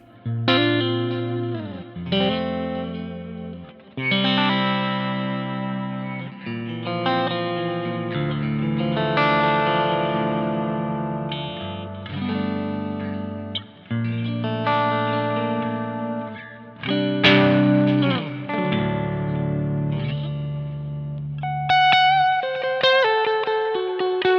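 Electric guitar through a Two Notes Captor loadbox's built-in speaker simulator, with Specular Reverb, plays chords and single notes with a smooth, amp-like tone and a wash of reverb, played alone in short phrases with pauses between.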